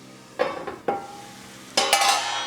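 Hash browns in a frying pan give a few sharp spatula scrapes and clanks against the pan over a soft background sizzle, close and brief, with no voices.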